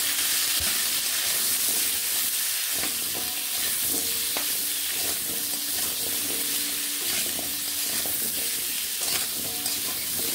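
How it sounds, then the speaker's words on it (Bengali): Cut potatoes frying in oil in a pan with salt and turmeric, a steady close sizzle with intermittent scraping and stirring clicks of a utensil against the pan. "নুন হলুদ মিশিয়ে ভালো করে ভেজে নেব।"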